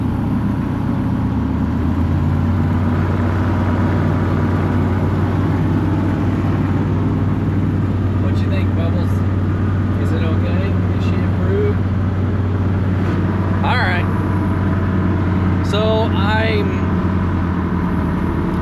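A rebuilt Chevy truck engine runs steadily with a low, continuous hum throughout, while someone talks over it.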